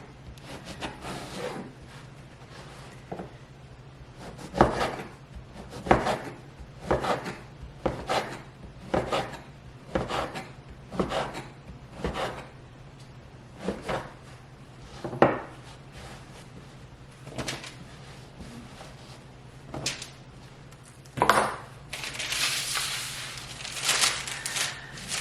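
Knife cutting bread into croutons on a cutting board, giving a series of sharp, near chops and taps spaced irregularly, with rougher scraping toward the end.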